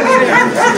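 A dog at an outdoor dog market gives a short, loud, yelping bark that fills the brief moment, close to the microphone, with no talk over it.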